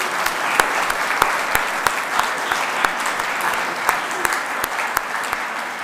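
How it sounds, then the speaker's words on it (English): A church congregation at a festival Songs of Praise service gives a round of applause: steady, moderately soft clapping with distinct individual claps popping out over a busy wash of hands, with no talking. "I think all those people need a round of applause now."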